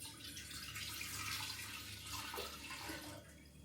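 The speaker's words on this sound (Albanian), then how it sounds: "hedhim herë ujin" Water poured into a container while making homemade bread, a soft steady splashing stream lasting about three seconds before easing off, faint and close with no talk.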